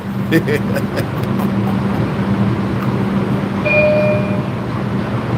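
An MTA subway train idles at Borough Hall station in Brooklyn, New York City, with a steady mechanical hum, brief high electronic tones, and faint clattering and background voices.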